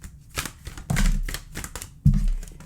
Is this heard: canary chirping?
no